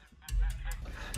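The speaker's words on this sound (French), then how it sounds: "comme ces oies qui peuvent devenir très agressives" Aggressive geese honking loudly up close in a short burst of several harsh, blaring calls.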